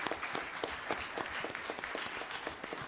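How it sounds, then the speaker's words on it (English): Members of the audience at a school board of trustees meeting give a quiet round of applause, a soft, steady patter of scattered clapping heard from a distance in a meeting room. "So let's give her a big round of applause."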